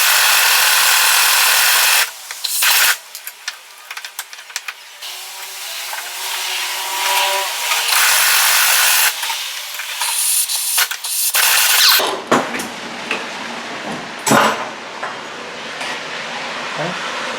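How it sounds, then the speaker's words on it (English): An impact wrench hammers a strut bolt out on a 2006 Chevy Cobalt, in several loud, harsh bursts up close with short pauses between, followed by quieter clanking and handling noise. "now we're going to shoot this bolt out"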